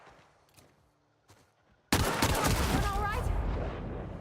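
Loud sustained volley of gunfire erupts suddenly from a near-silent start in the video game The Outer Worlds, dense rapid shots continuing to the end with no talk.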